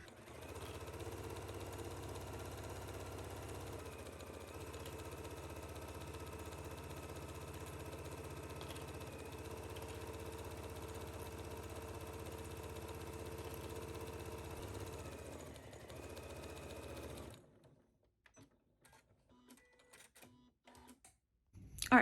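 A sewing machine runs steadily while stitching the 5/8-inch side seams of a jumpsuit, a continuous mid-volume mechanical hum for about seventeen seconds before stopping abruptly, leaving faint handling noises.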